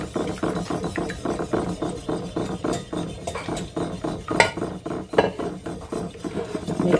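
A no-bake double chocolate mixture is stirred with a third of a cup of oil, the spoon scraping and clinking steadily against the bowl in a quick, repetitive rhythm, close and fairly loud with no talk.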